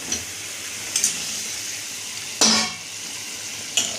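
Pieces of bhoot fish going one by one into a pan of hot spiced oil, making a loud steady sizzle with sharp hissing bursts and a few utensil clinks as each piece drops in.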